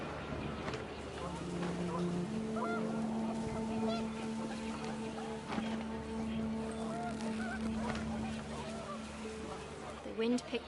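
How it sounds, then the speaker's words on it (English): Panicked geese honk in the video game What Remains of Edith Finch, a scatter of excited honks over steady wind and ambient game sound, with a narrator's voice running beneath. "The wind picked up, and panicked geese appeared and quickly went."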